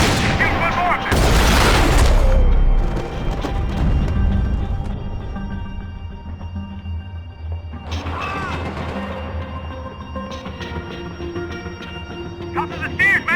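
Gunfire in a Max Payne 3 shootout includes a loud crashing burst of shots and impacts, followed by scattered shots and clatter under game music, with someone shouting over it.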